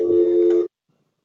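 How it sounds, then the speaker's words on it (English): An office telephone rings once in a loud, steady electronic tone lasting just over half a second, then cuts to silence. "I'm so sorry for the phone ringing, Chris."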